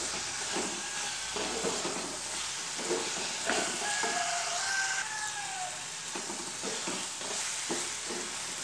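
Fish curry with drumstick pieces frying steadily in a pan, a continuous sizzle and hiss with frequent stirring scrapes and clinks throughout, close and fairly loud, with no talking.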